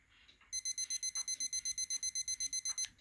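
A rapid, even train of high electronic beeps, about fifteen in a row lasting a few seconds, sharp and close from a small Digi-Tech digital calculator watch alarm.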